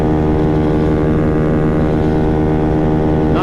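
A modified 50cc Maddog scooter engine screams at high RPM, a loud, steady, buzzing two-stroke whine held without a break as it runs near top speed.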